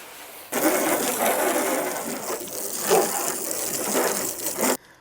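An Armor All foam cannon fitted with a pressure washer tip sprays a light mist, a steady hissing spray that starts abruptly, runs for about four seconds and then cuts off.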